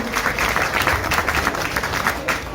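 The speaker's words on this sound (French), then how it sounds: "on t'applaudit, on vous applaudit tous les deux" An audience applauds two cooks at a chef's dining event, a dense, steady burst of many hands clapping close by that fills the whole moment.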